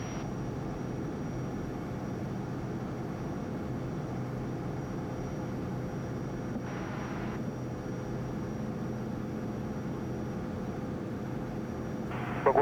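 Inside a Cirrus Vision Jet climbing out just after takeoff, a steady, loud cabin roar of jet engine and airflow hums throughout, with a brief mechanical whir of the landing gear retracting partway through and a short clunk at the end.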